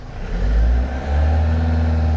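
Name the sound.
Vauxhall Vivaro 2014 van engine revving to 2,500 rpm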